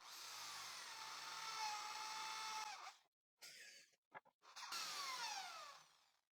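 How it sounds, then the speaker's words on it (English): A drill with a 5mm bit bores holes into a wood piece. A loud whining run winds down, a few short bursts and gaps follow, then a steady drilling whine resumes. "At the 3 points, I will drill using a 5mm bit."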